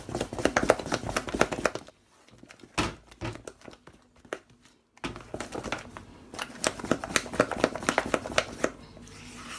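Puff puff dough mixed and squeezed by hand in a bowl, making close, wet squishing and crinkly bursts in steady rhythm that pause briefly midway before resuming.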